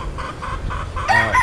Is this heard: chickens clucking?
yes